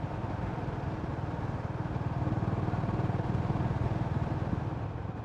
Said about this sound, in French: j'adore le bruit du pot d'échappement